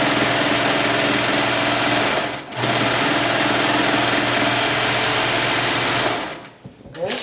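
A serger sewing machine runs at speed stitching pants fabric, giving a loud, steady high-pitched whir that cuts out briefly, resumes, then stops near the end with a few clicks.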